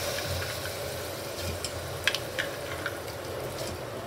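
Soaked dal being stirred into a khichdi mixture frying in a pan: a steady close sizzle with a few light scraping clicks from the spoon, no voices.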